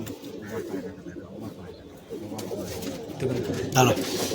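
Competition pigeons coo softly in a home loft in Behala, Kolkata, their low, repeated calls rising near the end, while people's voices murmur nearby.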